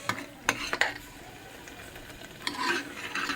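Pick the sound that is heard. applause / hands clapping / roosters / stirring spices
stirring spices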